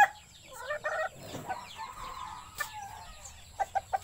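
Chickens clucking nearby in short bursts, with a few sharp clucks repeating near the end over quiet background noise.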